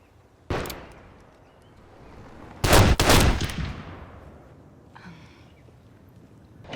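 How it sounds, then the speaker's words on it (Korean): Rifle gunfire during shooting training in a military film, heard as a sharp single shot followed by a louder close burst of rapid shots, with a faint blip later and quiet room tone in between. "오늘도 이어지는 사격 훈련."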